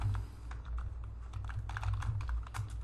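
Router configuration being typed on a computer keyboard: quick, close, irregular key clicks over a low background hum.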